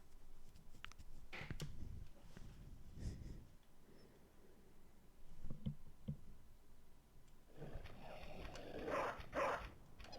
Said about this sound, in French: C'est la zone des chiens!